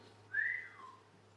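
A single clear whistle rises and then slides down, lasting about half a second over a quiet, steady hum, with no one speaking.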